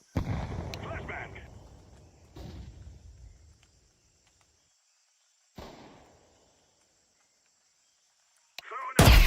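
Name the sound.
flashbang and grenade explosions in a video game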